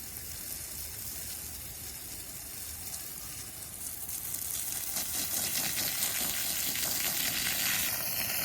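A steady hissing spray of water blasts over boysenberry plants in a garden, a broad continuous rush that grows a little stronger partway through, heard close with no talk.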